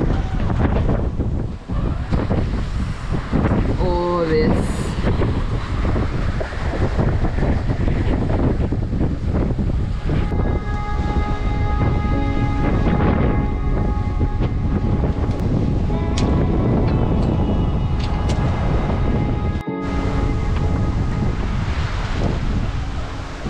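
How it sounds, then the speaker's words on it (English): Strong wind buffets a sailboat caught in a thunderstorm at sea, a loud, constant roar of gusts and water rushing against the hull throughout, with no distinct thunderclap standing out. "we're literally in the eye of a thunderstorm right now"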